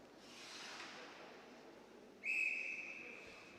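A referee's whistle at an under-15 youth match between Fife Flames and Lanarkshire Lightning gives one sharp, sustained blast partway through, standing out loudly over a steady wash of crowd and field noise.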